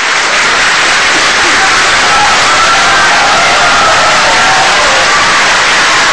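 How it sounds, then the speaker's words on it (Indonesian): A large crowd at an Indonesian presidential debate breaks into loud, continuous applause and cheering, a dense wall of sound that stays at full strength throughout. "Silakan berikan tepuk tangan."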